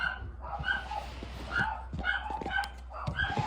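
Dogs bark outside a window in repeated short bursts, a few yips mixed in, heard at moderate distance indoors over a low steady hum.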